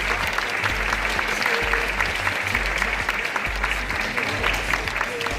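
Wedding guests applauding after the officiant declares the marriage at a Korean wedding ceremony, with steady, sustained clapping from a large crowd throughout.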